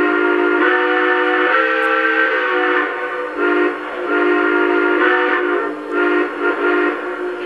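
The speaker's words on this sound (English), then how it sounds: "So here is the whistle." A loud, sustained multi-tone steam whistle from a Lionel Union Pacific 4-8-8-4 Big Boy #4024 model train sounds in a series of long blasts with short breaks, close and dominant.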